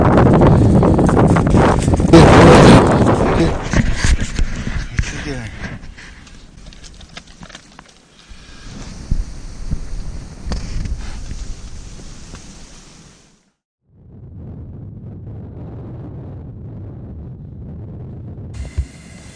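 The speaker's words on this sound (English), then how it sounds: "Still windy outside, but the incredible gusts died down last night" Gusty Arctic wind rumbles and buffets against the microphone, loud at first, then easing and returning in rougher bursts after a short quiet gap.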